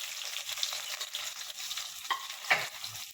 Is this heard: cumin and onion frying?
yes